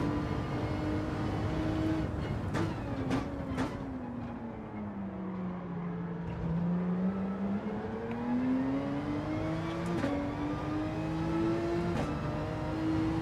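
Porsche GR.3 race car engine in Gran Turismo 7 drones steadily throughout, its pitch sliding down and rising again through gear changes and revs, loud and continuous with brief sharp clicks and no talk.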